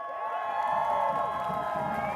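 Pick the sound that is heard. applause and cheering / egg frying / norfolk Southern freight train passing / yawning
applause and cheering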